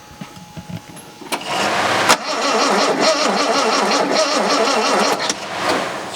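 A JD E-type engine cranking and trying to start, a loud steady rhythmic churn of the starter that runs for several seconds after a few quieter knocks and clicks, without catching.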